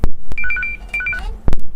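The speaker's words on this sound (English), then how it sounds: "Serious important phone call." A telephone rings with a warbling, two-tone electronic ring in a broadcast studio, two quick bursts of pulsed tones between loud thumping knocks, close and clear with no talking.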